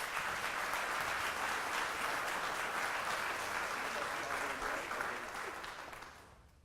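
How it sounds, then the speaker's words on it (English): An audience at a morning business event applauds a guest speaker, Mr. Murphy, with steady, full clapping from a large room that holds level and then gradually dies away at the end. "Let's give him a round of applause, please."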